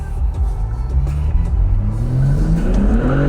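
Lamborghini Aventador SVJ accelerating hard with its tires spinning, a loud close engine roar climbing steadily in pitch under a deep low rumble, continuous throughout.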